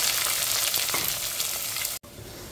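Sliced onions fry in hot oil with bay leaves, a cinnamon stick and cardamom, giving a steady, close, dense sizzle for about two seconds before a sudden brief cut, after which the frying continues slightly quieter.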